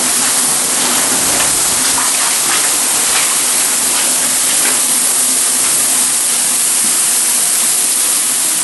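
Water pouring and splashing steadily inside a building, a continuous loud hiss and gush filling the space with no pauses.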